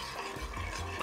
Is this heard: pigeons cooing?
no